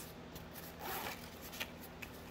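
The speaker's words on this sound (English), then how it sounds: "Always check your zippers" A zipper is pulled back and forth, quick soft rasping strokes up close, fairly quiet against low room noise.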